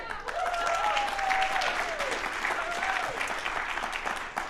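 An audience at a university ecology and evolutionary biology seminar claps in a steady, moderately distant patter, with a voice speaking over part of the applause.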